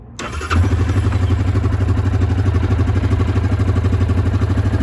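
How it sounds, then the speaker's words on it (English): A 2021 Yamaha Kodiak 700 EPS ATV engine cranks and catches within a second, then settles into a loud, steady, close rumbling idle. "let me go ahead and let y'all hear what this thing sounds like"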